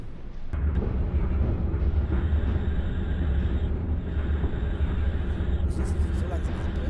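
S-Bahn Berlin BR 277 train in Microsoft Train Simulator rolling into Berlin Hauptbahnhof, a loud, continuous low rumble of wheels and motors with a few brief clatters, heard alone.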